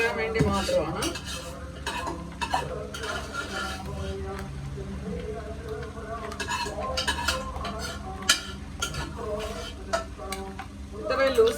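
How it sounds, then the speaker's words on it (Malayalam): Wheat dosa batter is stirred in a bowl with a spoon, giving repeated clinks and scrapes against the bowl at an irregular rhythm. Someone talks over the stirring, and a faint sizzle sits in the background. "ഇത്രയും ലൂസായിട്ടാണ് കലക്കണേ"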